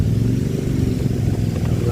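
Harley motorcycles of a group of bikers passing close by, a loud, continuous low engine rumble with steady throbbing exhaust and no talking.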